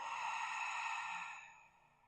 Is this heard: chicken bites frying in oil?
no